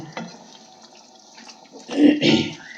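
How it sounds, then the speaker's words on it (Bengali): Water is poured into meat cooking in a pan for biryani, a short splashing gush near the end after a quieter stretch. "জল দিয়ে দিলাম মাংসতে একটু জলটা দিয়ে একটু সেদ্ধ হোক"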